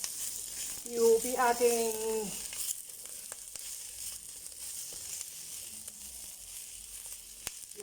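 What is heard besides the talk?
ingredients sizzling while being sauteed in a pan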